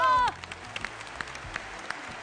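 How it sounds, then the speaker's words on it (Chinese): A studio audience at an errenzhuan game show gives light, scattered applause for contestants, sparse separate claps following a brief exclamatory voice at the start. "来，掌声恭喜他们。"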